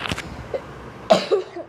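A person coughs in two short bursts, one at the start and a sharper, louder one about a second later, each followed by faint breathy throat sounds, close and without talk.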